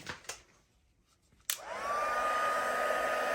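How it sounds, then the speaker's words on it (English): Craft heat tool switched on after a quiet pause to melt embossing powder on a stamped card, giving a steady, close, loud blowing whine of hot air that holds to the end. "Then grab your heat tool"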